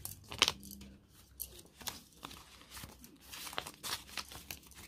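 Paper cash envelopes and banknotes handled during cash stuffing, with faint crinkling, rustling and crisp paper snaps coming close and intermittently, sharpest near the start.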